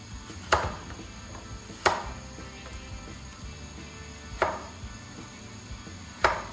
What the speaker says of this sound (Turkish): Burada 5 adet Patates kullandım. Bunları küp küp doğrayacağım.